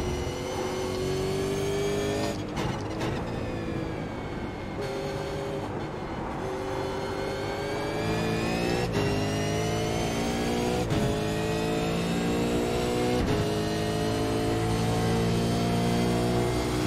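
Race car at the Nurburgring circuit in a racing game, with a continuous loud engine roaring and climbing through revs, broken by several sharp gear-shift drops and short lifts, close and steady throughout with no talk.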